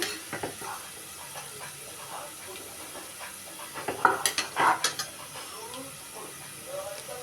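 Onions sizzle in hot oil in a pan for veg biryani, a soft frying hiss punctuated by scraping stirs and clinks of a spoon against the pot, loudest in a brief burst of stirring midway.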